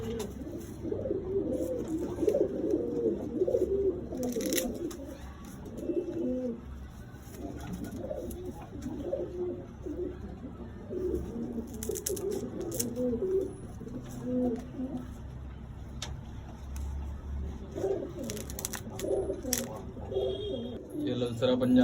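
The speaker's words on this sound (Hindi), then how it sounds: "हमारे छत के दूसरे नंबर की शान है, इसे बालाजी कबूतर बोलते हैं।" Balaji pigeons on a rooftop coo in soft, repeated throaty calls throughout, while someone talks over them and faint clicks and rustles come and go.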